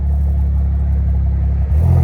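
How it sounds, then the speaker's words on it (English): A Toyota Supra with a catted downpipe and Magnaflow X-Force catback exhaust idles in a loud, steady low rumble, then blips briefly near the end. It is close and heard alone. "the Supra obviously sounds pretty good with the catted downpipe and also the X-Force Catback exhaust from Magnaflow"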